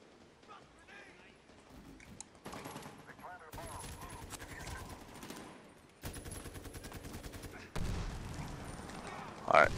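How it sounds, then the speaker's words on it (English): Gunfire in the Medal of Honor: Warfighter beta: repeated bursts of rifle and machine-gun fire, near and distant, rising to louder volleys toward the end, with voices underneath. "As I'm getting shot."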